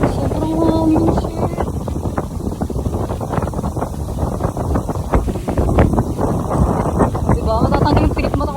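Strong wind buffeting the microphone on a Siargao outing, a loud continuous roar and rumble lasting throughout, with a voice faintly heard beneath it.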